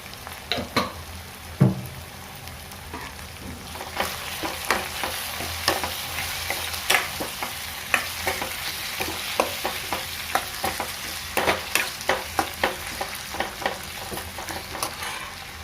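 Sliced onions with ginger-garlic paste frying in oil for a curry, giving a constant sizzle broken by frequent close, sharp spatula scrapes and taps against the pan, growing more rhythmic later, no speech.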